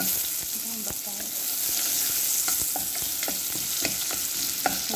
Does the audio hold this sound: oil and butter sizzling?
yes